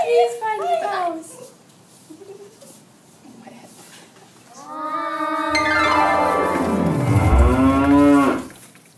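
Cattle on a farm give one long, loud moo that rises and falls near the end, following a voice and quieter animal calls at the start.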